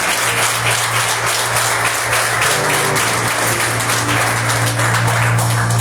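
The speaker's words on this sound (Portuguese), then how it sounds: "Dê uma salva de palmas ao Senhor." Congregation in a church gives sustained applause and clapping, dense and steady throughout, with a low hum beneath and no talk over it.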